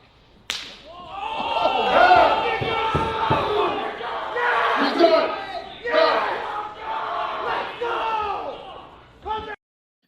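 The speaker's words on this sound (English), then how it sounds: "the sound of that slap, absolutely incredible" A sharp, loud slap cracks out at the start, then a large crowd roars and yells continuously, with fresh bursts of shouting before cutting off.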